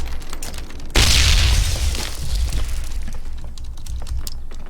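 A grenade explodes in the video game Ring of Elysium: one sudden loud boom that fades into a rumbling tail, with quiet keyboard clicks tapping before and after.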